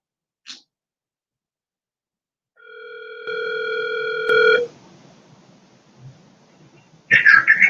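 A telephone on an unanswered call gives one clear, sustained electronic ring lasting about two seconds, followed by faint rustling and a brief louder burst at the end.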